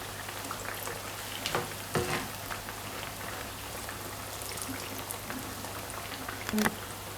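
Sambusa fry in hot oil with a continuous close crackle and spattering, broken by a few utensil knocks and a faint voice in the background.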